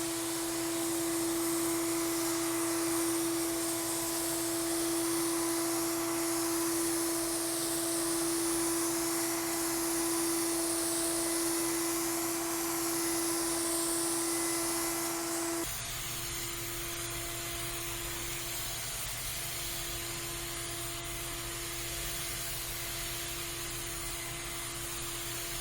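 A spray gun lays dip coating onto a car in a steady, close, continuous hiss. Partway through, the hiss drops in level and changes tone but keeps running without a break.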